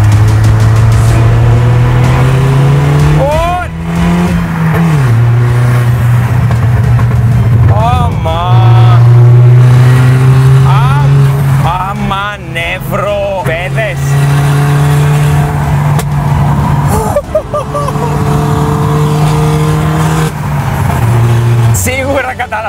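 Tuned BMW car accelerating on a ring road, a loud droning engine note holding and climbing through the gears with brief dips at shifts, heard from inside the cabin while people talk over it.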